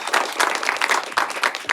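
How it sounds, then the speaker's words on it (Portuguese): Audience applause at a cybersecurity panel event, a dense, steady wash of many hands clapping that carries on evenly throughout. "Uma salva de palmas aqui pro Nicolas"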